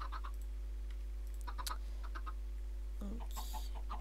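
Chickens clucking on a Minecraft automatic chicken farm: short, sparse game clucks over a steady low hum, with a few clicks and a brief rustling burst near the end.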